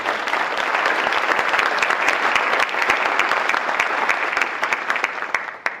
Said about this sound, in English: I'd like to give her a round of applause for her many years of service to the college.